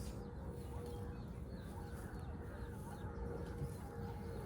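Backyard hens clucking softly amid a low, busy ambient hum, faint and intermittent throughout.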